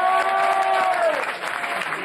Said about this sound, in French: Et on vous applaudit